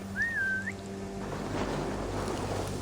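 A single short, wavering whistle from Assassin's Creed Valhalla rises and dips over a steady background of wind and water, then fades into the ambience.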